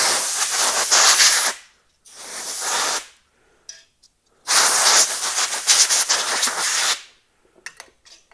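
Compressed air blown in two long loud hissing bursts over freshly cast resin turning blanks with aluminum honeycomb, separated by a short quiet gap, then a few brief small puffs at the end.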